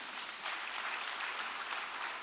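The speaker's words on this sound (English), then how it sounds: "A round of applause for them, please." An audience applauds at the Africa Social Impact Summit, a steady wash of clapping that holds at an even level for the whole stretch without stopping.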